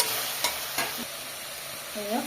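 Beef frying in a pan with ginger, garlic and cumin gives a continuous soft sizzle, broken by a few sharp spoon clinks and scrapes near the start and a brief tonal scrape toward the end.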